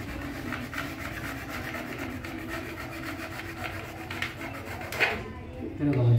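Cutting a channel for house wiring in a room wall, a continuous rough rasping and scraping with a faint rhythmic pulse, ending in a sharper clatter as the cutting stops.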